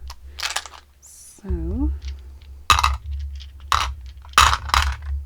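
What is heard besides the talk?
rolling two Looney Tunes dice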